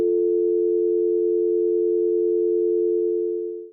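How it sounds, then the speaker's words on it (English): Telephone dial tone, a steady pure continuous hum held loud and unchanging for several seconds before cutting off, with nothing else heard. "That's the dial tone."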